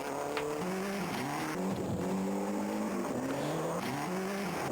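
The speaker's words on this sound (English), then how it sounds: "Oh my gosh, I love the car noises." Rally car engines from the World Rally arcade racing game roar continuously, revs rising and falling through gear shifts with occasional tire squeal, loud and steady throughout.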